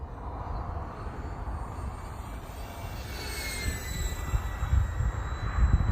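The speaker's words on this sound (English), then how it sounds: "Get it out here and I'll throw full flaps on for a pass." Arrows RC Bearcat model plane making a slow pass with full flaps, a faint steady electric whine drifting by at a distance over wind rumble.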